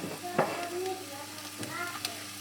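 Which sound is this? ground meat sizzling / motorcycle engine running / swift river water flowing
ground meat sizzling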